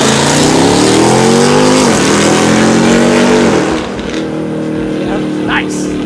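A drag racing car at Alabama International Dragway in Steele, Alabama, roars loud and close as it accelerates hard down the track, its engine pitch climbing through gear changes before fading into a distant drone.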